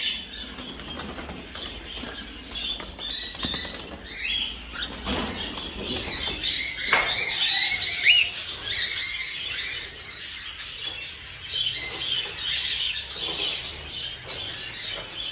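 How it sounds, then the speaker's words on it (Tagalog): Pigeons flapping their wings in a loft at harvest time, repeated bursts of wingbeats with occasional squawks and scuffling, close and moderately loud with no talk. "So, ayan. Medyo madami-dami na mga kaibon."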